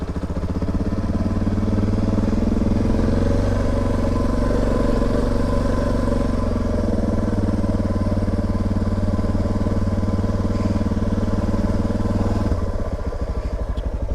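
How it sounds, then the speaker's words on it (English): A motorcycle on back roads hums with a steady, loud engine drone close by, shifting slightly in pitch near the end, with no talking. "we're hopping back on the bike, and we've got a 2-hour ride home of undiscovered roads."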